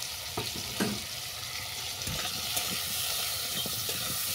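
Turmeric and salt being stirred into banana stem frying in a pan, giving a steady close sizzle and hiss with a few soft scraping knocks of the spoon.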